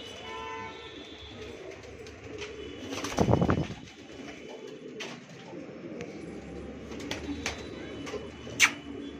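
Soft, low cooing from Patiala pigeons rises briefly over a quiet background with faint rustling and a few light taps.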